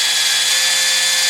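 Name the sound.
electric RC helicopter motor running at full throttle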